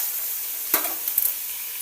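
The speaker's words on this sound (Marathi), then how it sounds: "अलग फ्राय करायचं तेलामध्ये शेंगाला" Drumstick pods fry in hot oil with a soft, steady sizzle, broken by a few faint stirring clicks and no talking.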